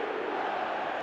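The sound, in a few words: stadium crowd roaring in the eFootball video game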